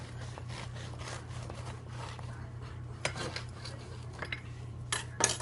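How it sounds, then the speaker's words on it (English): A knife saws back and forth through a slice of homemade white bread, making soft rasping strokes over a low steady hum. Several sharper scrapes come toward the end, close up, with no talking. "I'll just cut a slice just to show you how nice this bread just cuts."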